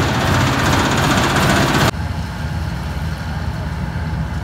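A John Deere 5050 D or Swaraj 855 4x4 tractor hitched to a 12-foot trolley runs steadily after starting, a loud, close, continuous engine drone that drops slightly in level partway through.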